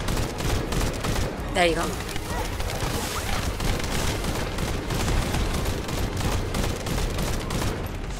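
Rapid gunfire from the video game The First Descendant, steady bursts of automatic shots filling the scene throughout, with players talking over the constant shooting.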